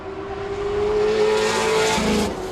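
A quarter midget race car's small engine runs and revs loudly at close range, with a steady rising drone and a brief rougher burst near the end; no talking.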